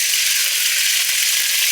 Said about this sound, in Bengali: তেল গরম হয়ে গেছে, আলু দিয়ে দিলাম।